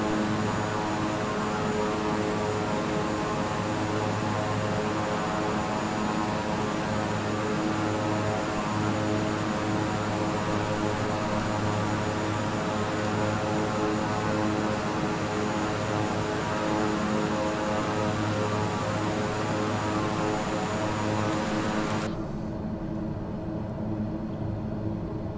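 A propeller airplane engine in Flight Simulator 2020 drones steadily with a loud, even buzzing hum on a flight from Southend to London, constant throughout before the higher tones abruptly drop away near the end.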